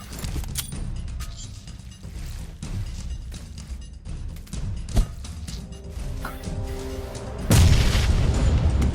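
In PUBG, a heavy grenade explosion booms near the end of a busy stretch of gunfire and clatter, followed by a loud sustained roar.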